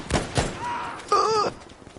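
A few gunshots in the video game Battlefield V, two sharp close cracks early, followed by whining and ringing tones.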